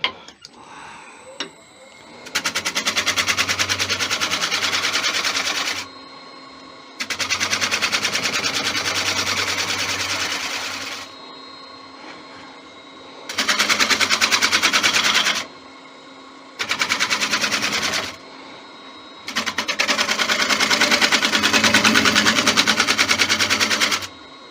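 A gouge cuts a spalted sycamore bowl on a wood lathe in five long bursts of loud, rapid chattering and rasping. Each burst is separated by brief pauses where the lathe hums alone.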